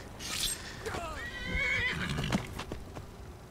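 A horse in Skyrim neighs, a loud, wavering whinny close by with a few hoof clops around it and a voice speaking nearby.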